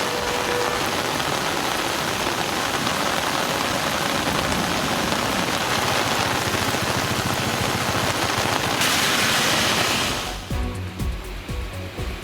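Heavy rain pours down in a dense, loud, continuous roar that holds steady, then cuts off near the end into quieter background noise.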